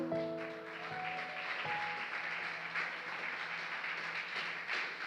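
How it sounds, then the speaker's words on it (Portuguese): A church congregation claps in praise, a soft, distant, even wash of applause with a few tonal notes lingering at the start. "Vamos aplaudir o Senhor."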